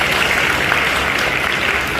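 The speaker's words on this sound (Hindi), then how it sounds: "जो अपने माता पिता से प्यार करता हुआ ताली बजाए" A full comedy-roast audience gives a brief, loud, sustained round of clapping, steady and dense from start to finish.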